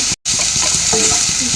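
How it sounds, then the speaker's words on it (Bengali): Chopped carrots frying in mustard oil with onion already browned, a steady close sizzle with light stirring scrapes, broken by one very brief gap. "এখন গাজরটাকে আমি ভেজে নেব"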